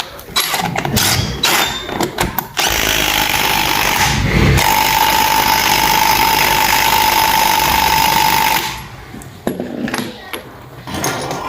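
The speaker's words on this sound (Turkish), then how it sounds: "Somonumuzu takıyoruz. Ve sıkıyoruz." On a Honda Dio scooter during a tire change, a power tool tightens the wheel nut with a loud, steady whirring drone lasting about six seconds, bracketed by metallic clanks and rattles close to the microphone.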